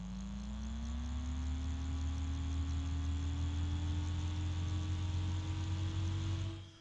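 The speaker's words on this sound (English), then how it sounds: "I'm pretty sure that noise you're hearing is damaged ball bearings." A bgears b-blaster 140x38R spinning top with damaged ball bearings whirs steadily and close, a continuous droning hum whose pitch creeps slowly upward, with a grainy rattling texture and no voices.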